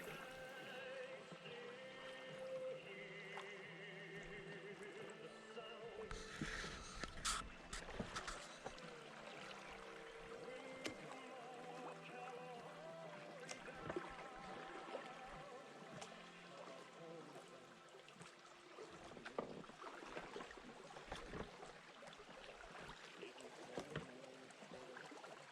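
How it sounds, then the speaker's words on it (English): A boat is rowed through log debris on the Pine River in Michigan, with close splashing water, oar strokes and occasional knocks and scrapes against wood over a steady background of flowing water. "It creates a good challenge rowing through this stuff."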